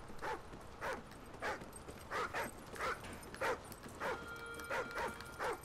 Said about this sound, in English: Where'd the dog go? Where's Flapjack?